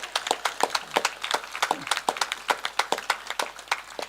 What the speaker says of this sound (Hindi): बहुत कमजोर तालियां हैं।